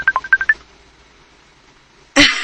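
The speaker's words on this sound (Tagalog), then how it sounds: "Natingog mo yung cellphone mo." A cellphone rings with a quick run of electronic beeps at changing pitches. A short quiet gap follows, then a sudden loud burst of noise.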